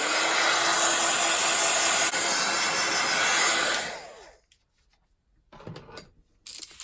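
A hair dryer blows steadily and loudly at close range while drying a small paper craft project, then shuts off into near silence followed by a few faint handling sounds.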